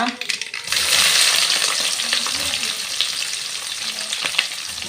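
Red onion frying in a pan for hotel-style masala dosa, a loud, steady sizzle that starts abruptly and keeps going, with occasional stirring clinks close by.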